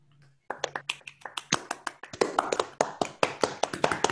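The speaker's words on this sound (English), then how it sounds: "we can give him a round of applause" Participants in an online talk clap one after another over unmuted microphones, starting sparse and then building into a dense run of close, sharp hand claps and taps.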